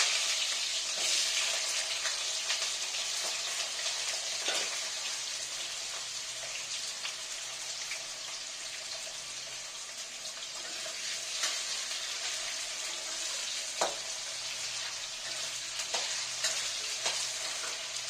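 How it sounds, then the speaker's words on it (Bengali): Sliced potatoes frying in oil left over from frying fish, village-style cooking, with a continuous close hiss and crackle of hot oil punctuated by occasional utensil taps. "এবারে আমি ওই তেলের মধ্যেই এভাবে করে আলু কেটে রাখছি, এই আলুগুলো ভেজে নেব"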